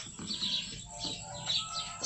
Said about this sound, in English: this evening we have some nice bird calls going on